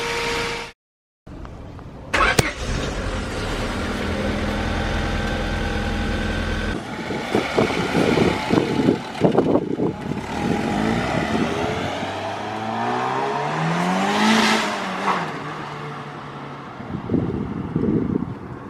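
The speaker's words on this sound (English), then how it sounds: "he is now driving the car home." Boosted, street-tuned Honda Civic wagon pulls away, its engine note climbing and then sweeping past before fading, with heavy wind buffeting the microphone throughout.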